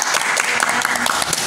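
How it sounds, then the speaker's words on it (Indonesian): Brief burst of audience clapping at a casual student cabinet introduction, a busy patter of hands with a voice mixed in underneath. "tepuk tangan dulu, tepuk tangan"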